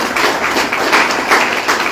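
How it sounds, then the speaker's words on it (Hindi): Audience applause at a healthcare company training and award event in Kaimur, Bihar, a steady, fairly loud wash of many hands clapping throughout, with no talk over it. "ताली बजा दीजिए।"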